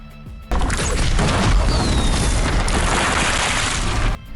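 Fireworks stuffed in a character's backpack catch fire and explode in the Baldur's Gate 3 video game, giving a loud, sustained crackling burst of blasts and debris that lasts about three and a half seconds before cutting off.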